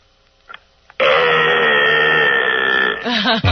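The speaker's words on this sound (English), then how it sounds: "I'd like to belch" A caller on a radio call-in show lets out a long, loud belch over the phone line, lasting about two seconds, with a voice right after it.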